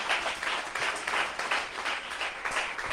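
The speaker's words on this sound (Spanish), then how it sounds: "Dele ese aplauso a Cristo," Applause from a crowd, steady clapping that swells in gentle waves and carries on without a break.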